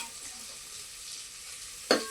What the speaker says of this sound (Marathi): हलव की चांगले